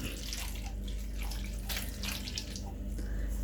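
A steady stream of water, about half a cup, pours and splashes into a pot of kootu curry with chickpeas, fairly close and quiet, with no talking.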